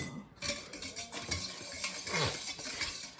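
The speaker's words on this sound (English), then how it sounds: "stir it up again" A utensil is stirred through a mixture in a bowl, giving soft repeated scraping and clinking strokes, close and quiet.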